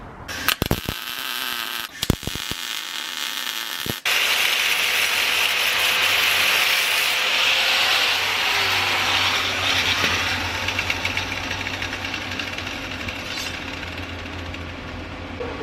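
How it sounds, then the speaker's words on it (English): Welding a pin onto a Honda CR-V rear differential clutch housing: a few sharp clicks and bangs, then a continuous loud crackling buzz of the weld running steadily at close range, with no talking. "So I'm gonna go ahead and weld that right now."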